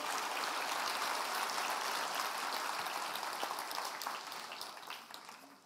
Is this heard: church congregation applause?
yes